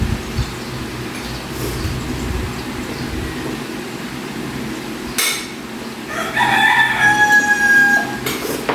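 A rooster crows clearly once, nearby, late in the clip, following a stretch of rumbling background noise and scattered knocks.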